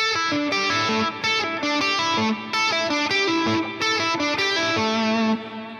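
An electric guitar runs through an effects-laden, slightly distorted tone, playing a flowing legato phrase of connected notes with loud and soft swells, close and alone.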